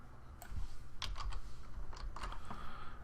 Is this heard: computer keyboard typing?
yes